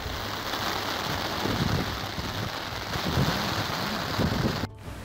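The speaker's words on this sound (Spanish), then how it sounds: "El día amenazaba lluvia y pronto llegó" Rain falling during an outdoor hunting day in the Spanish hills, a steady dense wash of drops with a faint low rumble underneath, loud and continuous across the whole clip with no voices.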